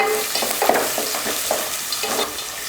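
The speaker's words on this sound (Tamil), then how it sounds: "அடுத்து ஒரு வெங்காயத்தை பொடியாக கட் பண்ணியிருக்கேன், அதையும் சேர்த்துடலாம்." Chopped onion frying in oil with mint for a parotta salna, sizzling steadily up close with soft scraping stirs throughout, no voices.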